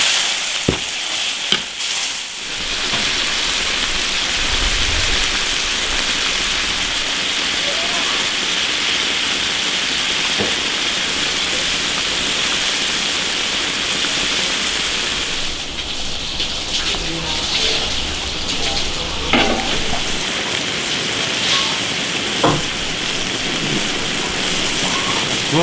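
Pork lung with Sichuan pepper, chilies, beer and green peppers bubbling in an iron wok, a steady dense sizzling hiss with small pops, loud and close, continuous throughout.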